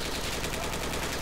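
Rapid automatic gunfire in the military simulation game Project Reality 2, a dense, loud burst of shots filling the short moment.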